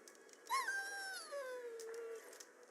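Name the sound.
dog whimpering in the video game Dragon Age Origins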